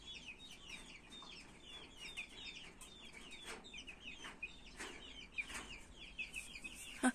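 Month-and-a-half-old chicks, including a larger ash-grey one, cheep and cluck close by in a steady stream of short, high chirps over a constant low background.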